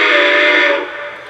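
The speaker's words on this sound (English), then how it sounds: "The whistle confirms that it took the command." A Lionel Legacy 2-10-4 model steam locomotive sounds one loud, close steam whistle blast, a chordal sustained tone that holds then tapers off.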